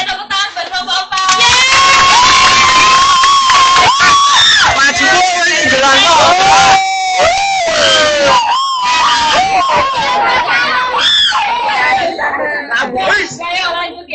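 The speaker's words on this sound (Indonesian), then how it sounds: "Oke, tepuk tangan buat kelompok 4." A loud, lively audience at an Indonesian Independence Day youth cooking contest cheers, whoops and shouts for a competing group, with dense excited voices sustained throughout.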